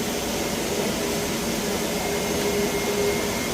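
An air conditioner's drain pump motor running at a leak repair site after its control board failed, a steady, loud mechanical whir and hum that holds unchanged throughout with no talk.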